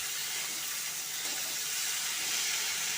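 Tomato and potato fry in a pan, giving an unbroken, close, bright sizzling hiss that stays level for the few seconds heard, with no voices.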